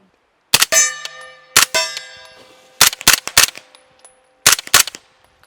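Shots from a CMMG Banshee firearm at an outdoor range, several sharp cracks in small groups of one to three with short ringing tails and clear gaps between them, close and loud.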